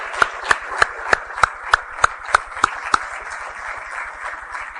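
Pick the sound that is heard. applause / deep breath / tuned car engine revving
applause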